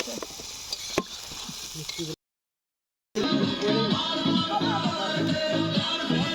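Spices fry in a tilted kadai at an outdoor picnic in a plum orchard, giving a steady crackling sizzle that cuts out for about a second, then returns louder with busy bubbling.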